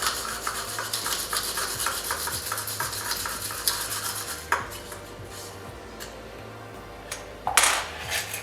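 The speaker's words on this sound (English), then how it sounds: "then you're going to put your spoon in there and then swizzle it." A spoon swizzles through crushed ice in a cocktail glass, producing a steady rhythmic scraping and clinking that carries close and fairly loud for several seconds, followed by a few sharper icy clatters near the end.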